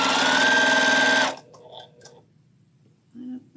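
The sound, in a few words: sewing machine stitching a log cabin quilt block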